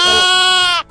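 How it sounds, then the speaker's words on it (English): A single loud, close sheep bleat on a farm, a wavering nasal call lasting most of a second before cutting off abruptly. "So we just saw some of the mama sheep with lots of wool on"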